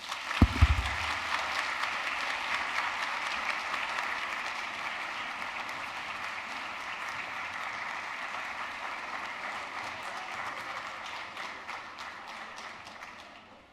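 A large audience applauds at an honors college induction and recognition ceremony, cheering Dr. Joyce Payne. The clapping is dense, steady and sustained, with a few sharp claps at the start, before it slowly thins toward the end.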